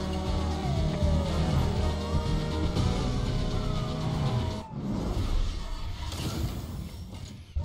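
Police sirens wail over loud car engine noise during a pursuit in the Need for Speed Most Wanted video game, a continuous dense racing mix with tire skids, a brief crash-like dropout near the end.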